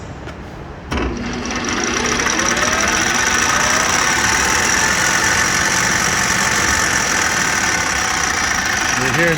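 A Standard-Modern 1133 engine lathe runs in gear at 1800, a sudden clunk followed by a steady loud mechanical hum and whine that persists, with a faint rattle near the end.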